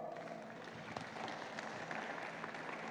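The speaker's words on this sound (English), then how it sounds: "A round of applause for Zipporah." Steady applause from a crowd, dense clapping sustained throughout without a break.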